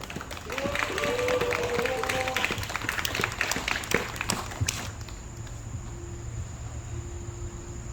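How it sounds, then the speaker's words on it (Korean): An audience at a Korean gender equality lecture and citizens' rally claps to welcome a speaker, a steady roomful of applause with crowd noise that runs for about five seconds, then drops to a quiet room with a faint hum. "다시 한 번 더 박수로서 맞이하도록 하겠습니다"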